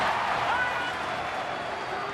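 A baseball crowd at a San Francisco Giants at Pittsburgh Pirates game roars after a Rod Barajas home run, a broad, sustained wash of cheering that slowly eases off while a commentator talks over it.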